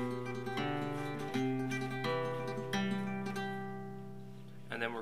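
Nylon-string guitar playing a flamenco soleá tremolo pattern, a steady rapid repeated plucking over a descending bass line, close and clear, ending with a brief sound near the close.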